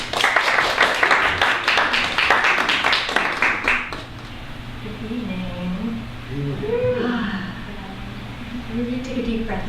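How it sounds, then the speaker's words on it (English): An audience at a psychedelic awareness salon gives a short round of applause for a performer, a dense clatter of claps for about four seconds that gives way to a calm voice talking. "please give a round of applause to Sky"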